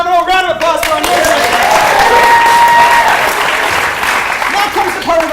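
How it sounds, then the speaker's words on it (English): A festival crowd claps and cheers loudly after a music set, the steady applause filling the space with voices mixed in throughout. "Round of applause for our music."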